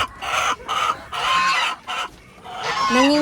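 Several chickens cluck and murmur in short bursts nearby, with a few higher squawks toward the end and no talking.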